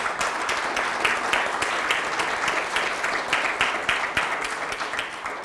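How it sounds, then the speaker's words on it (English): Steady applause from a crowd, many hands clapping continuously at moderate volume, with no voices standing out. "Thank you for that applause from my comrades."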